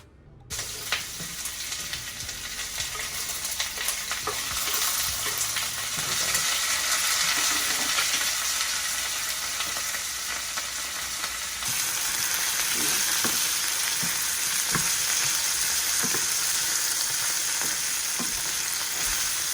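Onions and tomatoes fry in avocado oil in a pan, a loud, steady sizzle running throughout with occasional clinks and scrapes of stirring; no one speaks.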